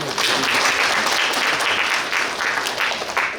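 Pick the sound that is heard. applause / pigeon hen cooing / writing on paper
applause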